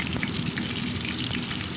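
Dried red chillies and mustard seeds spitting in hot oil for a tempering, a dense steady sizzle with fine crackling pops throughout, close and fairly loud, no voices.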